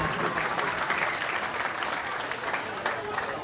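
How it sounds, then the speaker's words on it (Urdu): An audience at a school gathering applauds the chief guest with loud, dense, continuous clapping that holds steady throughout. "تو آپ کی زوردار تالیاں"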